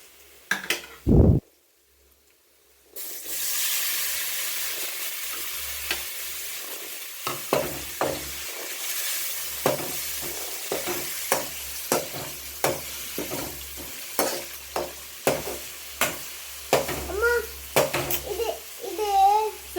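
Fish curry base frying and being stirred in a pan with coarse salt, a steady sizzle broken by repeated scraping and clinking strokes of a spoon against the pan, with a brief knock near the start.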